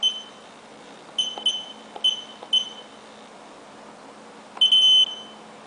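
A U8 WiFi/GPRS/GSM alarm system triggered from its RFID touch keypad gives a few single beeps, then a quick pair, then one longer sustained tone, all sharp and close in a quiet room.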